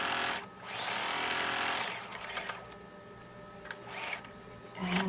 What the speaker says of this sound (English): Making sure to lock my stitches at the beginning and the end by just reversing a little bit on your machine.